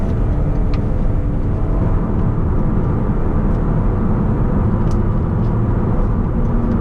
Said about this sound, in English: Full acceleration, some turbo lags.